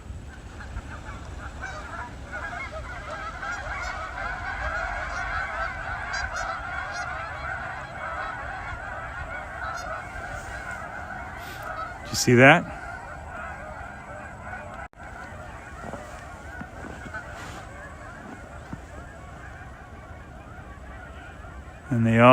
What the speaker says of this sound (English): These geese actually can be like kind of an annoying sound after a while.